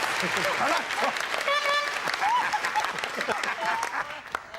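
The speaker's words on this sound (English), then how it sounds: "That deserves a round of applause." A studio audience on the game show Blankety Blank breaks into applause, lively uneven clapping with laughter, whoops and voices layered over it throughout.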